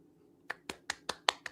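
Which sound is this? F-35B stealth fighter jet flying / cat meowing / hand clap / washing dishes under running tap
hand clap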